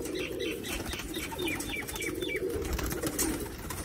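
Sialkoti rooftop pigeons cooing softly with quick bursts of wing flapping, fairly faint and close, repeating over a few seconds against a light background hum.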